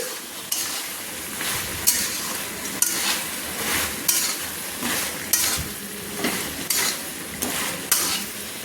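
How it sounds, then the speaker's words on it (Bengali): Fish head and mixed vegetables stirred together in a frying pan, a continuous sizzle broken by regular scraping strokes of the spatula against the pan about once a second, close and clear, with no talking. "দিয়ে ভালো করে কিন্তু মাথা সবজিকে আমি একসঙ্গে মিশিয়ে নিচ্ছি"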